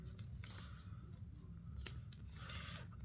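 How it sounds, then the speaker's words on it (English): Sheet of printer paper being folded in half by hand, with faint close rubbing and crisp creasing swipes in a few short bursts against a quiet room. "Gonna start by folding our sheet of paper in half"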